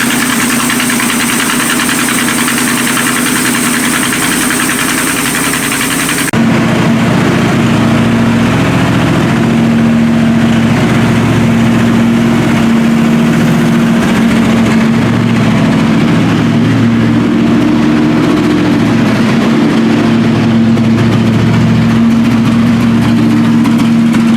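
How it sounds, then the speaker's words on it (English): A 1976 Winnebago Brave engine runs on gas with a carburetor clogged so it won't idle without the choke, a loud steady close drone with a rough knocking edge that thickens after a brief change partway in, no talking. "It's actually running on gas now."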